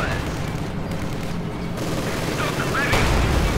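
MG42 machine gun fire in a Company of Heroes 2 battle, dense rattling bursts mixed with explosions and battlefield noise, with a commentator talking over it.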